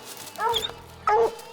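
A young hunting dog at a raccoon den tree gives two short, close yipping barks about half a second apart, with a soft whine between them and a faint low rumble underneath.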